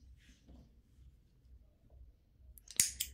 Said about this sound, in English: cut my thread.